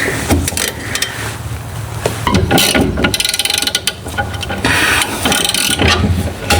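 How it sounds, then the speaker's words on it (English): A nut comes off the suspension of a 1979 Fox Body car, with loud, close ratchet clicking in quick bursts, metallic clanks and short pauses between runs. "Take the nut off."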